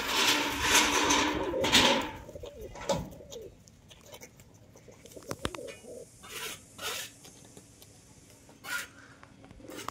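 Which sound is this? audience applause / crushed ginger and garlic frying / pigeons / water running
pigeons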